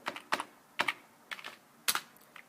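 Computer keyboard keys typed in short bursts of several quick, close clicks separated by brief pauses, a command being entered on a pcDuino3 setup; no talking.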